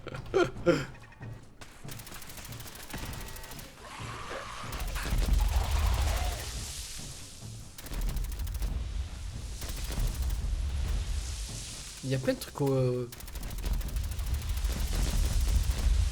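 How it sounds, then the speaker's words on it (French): Gunfire with bursts and blasts from a weapon that sets off explosions on the ground in the video game Fallout 4, loud and repeated through most of the stretch, with someone talking briefly over it. "c'est cette arme qui fait des explosions au sol"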